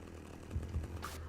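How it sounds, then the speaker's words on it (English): A chainsaw in the video game Manhunt drones steadily at close range, swelling twice in short revs with no voices over it. "Wait for him to get up against a wall or something before you start trying to hack him up with that chainsaw."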